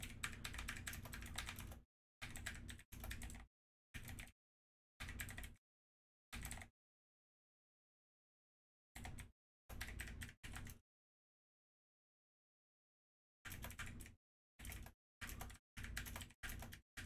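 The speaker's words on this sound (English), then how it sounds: "I'm typing this up." Bursts of rapid clicking from a computer keyboard being typed on, separated by long silent pauses, close and fairly quiet with no voices.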